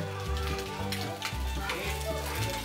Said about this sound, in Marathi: आता ताई दुसऱ्या साईडने पण फ्राय करून घेते